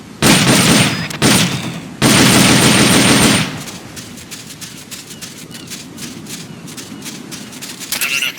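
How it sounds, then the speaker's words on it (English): An M16 assault rifle fires on full auto in Metal Gear Solid Peace Walker, two loud sustained bursts of rapid gunfire separated by a short gap, followed by quieter scattered clicks and game effects. "The M16's a standard assault rifle, capable of rapid fire."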